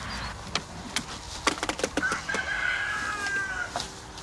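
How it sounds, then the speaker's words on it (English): Chickens, including cream legbars, clucking in scattered close bursts on a farm, while a cockerel's drawn-out crow rises in the middle, with steady outdoor background noise throughout. "Oh, Mum, the chickens are looking nice"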